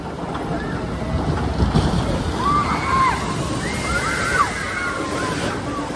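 Water splashes and rushes around the Snake River Falls boat ride at Cedar Point, a steady wash of spray and wind noise with faint shrieks above it.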